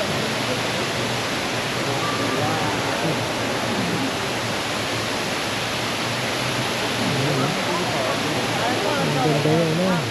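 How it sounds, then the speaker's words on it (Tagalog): Waterfall in the indoor Cloud Forest at Gardens by the Bay, Singapore: steady, loud rushing roar of falling water filling the space, with voices talking faintly underneath. "Waterfall view."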